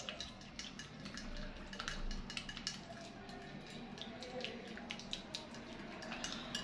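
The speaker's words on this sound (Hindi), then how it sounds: "अब हम इसकी करेंगे अच्छी तरह से मिक्सिंग" Night cream stirred in a bowl, faint clinking and scraping taps that repeat irregularly in quick succession, quiet and close.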